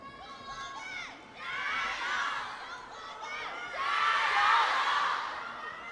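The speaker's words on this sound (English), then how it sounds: "the shouts inside the Infinity Arena are getting louder in favour of Kwai and Chen" Arena crowd at a China Smash round-of-16 mixed doubles badminton match shouting and cheering in rising waves, with high excited voices swelling loudly toward the end.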